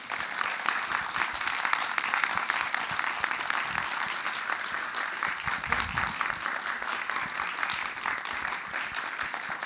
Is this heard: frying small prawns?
no